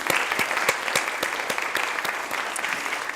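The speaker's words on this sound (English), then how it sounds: "We need to give Pat a big round of applause" An audience applauds Pat at a talk on borderlands and the Mexican American story, with many hands clapping in a steady, moderately loud wash and some sharper individual claps standing out, no talk over it.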